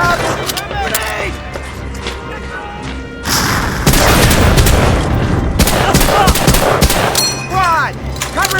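Dense gunfire from a 2006-era Windows XP PC shooter game, with rapid bursts and booming shots that swell louder halfway through and continue steadily, under shouted squad commands.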